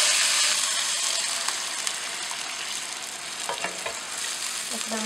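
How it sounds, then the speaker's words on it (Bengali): A spoon stirs spiced cauliflower and potato in a hot pan, giving a loud, steady sizzle with scraping strokes throughout and no talking. "এগুলো আমি এবার ফুলকপি আলুর সাথে আমি সবটাই মিক্স করে নিলাম"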